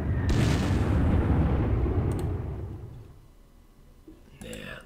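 A loud, rumbling bomb blast in a World War II strategy game, a sustained roaring boom lasting a couple of seconds that slowly decays, followed by a fainter burst near the end.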